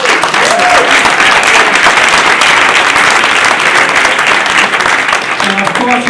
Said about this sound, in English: can we give a round of applause to Jamal Crawford and his panel?